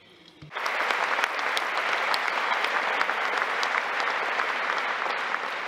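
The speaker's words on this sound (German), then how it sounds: "Diese sind Applaus für Giussani und für sein Zeugnis" Sudden burst of warm audience applause for Giussani, rising sharply from near silence into dense, sustained clapping that holds steady and close for several seconds with no speech.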